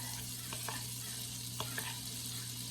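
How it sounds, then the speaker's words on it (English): Butter melting in a frying pan gives a steady, even sizzle with faint scattered pops and crackles, heard close and quiet with no talk. "take the butter, melt the butter up, and while the butter is melting"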